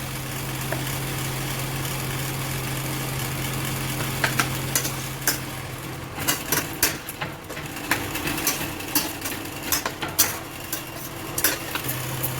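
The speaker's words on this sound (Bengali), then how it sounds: "এরপরে আমি নাড়াচাড়া করে দিচ্ছি।" Amla (Indian gooseberry) pickle is stirred in a pan over a steady low hum, first quietly, then with a run of sharp clinking scrapes of a utensil against the pan, close and without speech.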